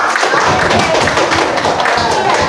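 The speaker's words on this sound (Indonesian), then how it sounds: "Tepuk tangan untuk kelompok teh panas" Classroom clapping from students for a student group after a peer-teaching presentation, a dense steady patter of many hands lasting a couple of seconds with voices mixed in.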